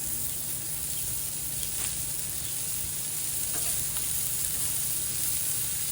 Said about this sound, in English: Gonna go ahead and throw on 4 patties, or 4 meatballs. And that Blackstone is super hot.